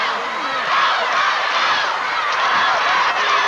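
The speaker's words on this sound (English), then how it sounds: "They are chanting, "Go, Bobby, go."" A large arena crowd at a 1987 World Class wrestling tag-team match chants and roars steadily, a loud sustained wash of many voices filling the hall.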